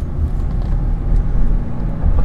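A Daimler Double Six V12 idles in a deep, smooth, continuous low rumble, loud and close, with no talking over it.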